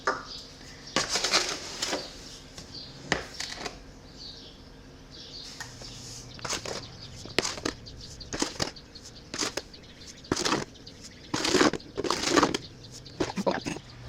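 A spoon scrapes and clinks in bursts against a pan while sugar is stirred into strawberry jam, close and fairly quiet, with irregular pauses between strokes.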